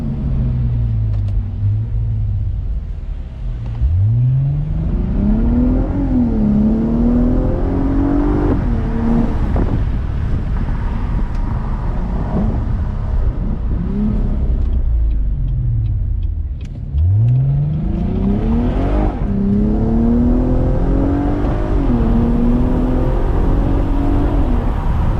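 A Cadillac ATS-V accelerates hard, its engine climbing through rising pitch sweeps with quick upshifts, drops back and then pulls hard again, heard loud from inside the car with a constant road rumble underneath.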